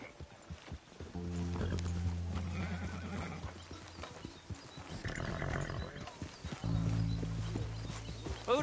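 A horse in the video game Red Dead Redemption 2 gives several loud neighs and snorts between softer rhythmic clip-clop hoofbeats, close by, with no talking.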